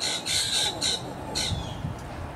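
A white-eyed parakeet gives several harsh, repeated squawks outdoors at moderate distance near backyard feeders, in quick bursts over a soft background hiss.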